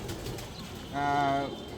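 Jalali rock pigeons feed together, and a single soft coo rises briefly over a faint, busy background.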